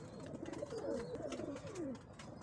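Pigeons coo softly in a low, rolling, burbling rhythm, faint and somewhat distant against a background hiss, with no talking.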